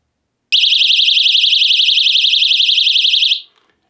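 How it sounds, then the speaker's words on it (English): A 130-decibel personal alarm on a survival bracelet shrieks in one loud, continuous warbling tone held for about three seconds, then cuts off abruptly. "we also have this 130 decibel personal alarm, which is really loud"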